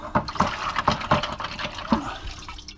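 A CV boot ring and bolts are swished around in a tray of cleaning solvent, making close, repeated sloshing splashes with no talking.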